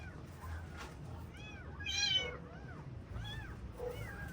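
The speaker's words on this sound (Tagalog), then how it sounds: "Meow, meow, meow, meow." Several short, rising-and-falling cat meows, fairly close, over a faint background hiss, with one louder, longer meow in the middle.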